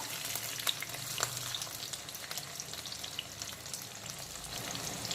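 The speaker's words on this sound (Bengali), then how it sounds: "এখন আমি দিয়ে দেবো কড়াইতে লবণ, হলুদ আর কাঁচা সর্ষের তেল মাখানো স্ম্যাশ করে রাখা মাছের ডিম।" Smashed fish roe mixed with salt, turmeric and raw mustard oil frying in a wok over low flame, giving a steady close sizzle with faint stirring scrapes and pops throughout.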